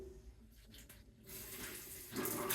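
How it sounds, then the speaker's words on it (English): Water runs from a Moen Engage Magnetix shower head, a steady broadband hiss that swells louder partway through and again near the end as the flow builds, with no talking. "so that's just the big shower head in action"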